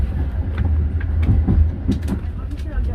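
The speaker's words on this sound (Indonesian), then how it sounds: "Pukul 14:53 kereta api Erlangga tiba di stasiun Cirebon Perujakan." A KA Airlangga passenger train pulls into Cirebon Prujakan station with a steady low rumble of rolling wheels and carriage noise, scattered clanks and squeaks riding on top.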